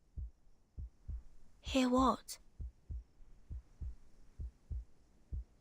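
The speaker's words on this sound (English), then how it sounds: "A heartbeat. Right outside the door." Steady heartbeat thumping just outside a door in the video game Reverse: 1999, a regular low double-beat pulse running throughout while a brief spoken question cuts in partway.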